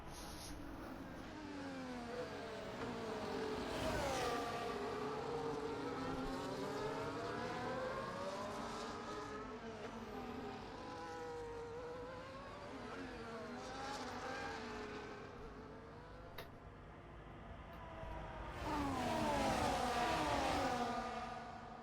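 Race cars at Monza in a racing game scream past with rising and falling engine whines, several cars overlapping and shifting gears, swelling loud again near the end.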